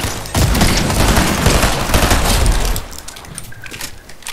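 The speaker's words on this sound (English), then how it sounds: "I hear some gunshots down here." In a Fortnite Zero Build match, a dense, loud volley of rapid gunfire rattles for a couple of seconds. It then thins into fainter, scattered shots.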